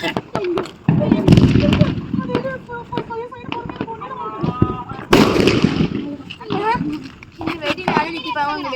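Firecrackers going off at a family Diwali celebration in a series of sharp, loud nearby bangs and pops, some in quick bursts, with children and adults talking and calling out between and over the blasts.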